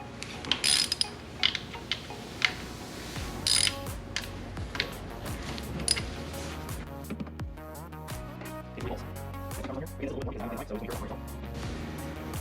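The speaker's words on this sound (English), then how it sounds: "This is where you need your 10mm socket." Ratchet clicks from a 10mm socket undoing the oil filter cover bolts on a Suzuki DRZ400SM motorcycle, sounding as a series of close, irregular mechanical ticks and bursts over a steady background, with a person talking in places.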